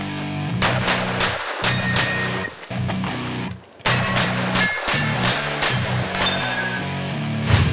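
Gunshots ring out at a practical shooting competition, loud sharp reports fired in quick bursts of several shots with brief pauses between strings.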